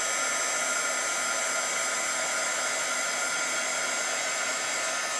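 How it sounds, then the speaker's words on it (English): Heat tool blowing hot air to dry black acrylic paint on a craft card, a steady loud whooshing fan roar with a constant whine, running unbroken and alone throughout. "this is why I have this tool here, which is the heat tool. I'm just going to dry that black acrylic."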